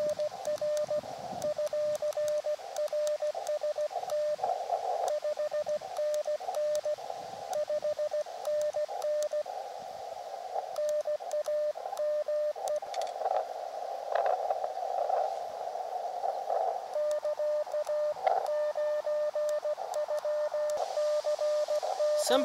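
Amateur radio Morse code signal received on an Elecraft KX2 QRP rig outdoors on 14060, a steady CW tone keyed in short dots and dashes over a constant background hiss, loud and alone throughout.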